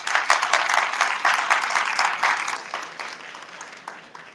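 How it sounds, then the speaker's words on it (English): Guests at a diabetes awareness fundraising event in Sydney applauding, a dense, steady round of clapping that gradually fades over about four seconds. "Once again, a round of applause,"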